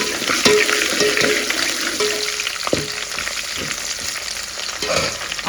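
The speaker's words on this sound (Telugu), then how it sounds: "ఆనియన్స్ వేసుకొని బాగా వేగాల వేగనిద్దాం" Small onions frying in hot oil with spices for a Rayalaseema-style chicken kushka, a dense continuous sizzle close up, broken by occasional spoon scrapes and light clinks against the pan, with no voices.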